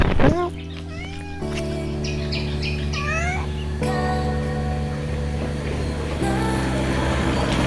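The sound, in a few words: small cat meowing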